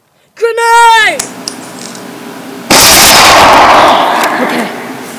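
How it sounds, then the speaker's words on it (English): A grenade blows up in a war-zone scene. A short shouted voice comes first, then a sudden, loud, close blast with a broad rumbling roar that trails off over the next couple of seconds. "Grenade!"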